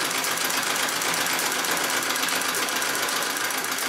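A Singer 66 treadle sewing machine runs steadily during free-motion quilting, giving a loud, continuous, even mechanical whir and clatter with no talking.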